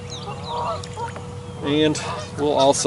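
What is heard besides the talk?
geese honking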